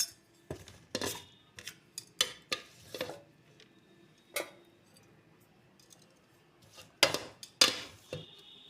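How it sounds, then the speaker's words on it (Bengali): A utensil stirs and tosses vegetarian fried rice with raisins and vegetables in a pan, giving scattered metallic scrapes and clinks in irregular bursts with quiet pauses between them. The sounds are close and clear, with no talking. "নেড়ে চেড়ে দেবো যাতে সব জায়গায় সমান থাকে, সবাই সমান পায় কিশমিশ আর সবজিগুলো।"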